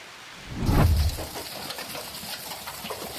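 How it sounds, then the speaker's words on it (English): Hail from Super Typhoon Yagi striking the ground in Hainan, a dense rattling downpour with a heavy thudding burst near the start, then a steady hiss of falling ice and rain. "The icy hailstones fall as if unleashing nature's fury"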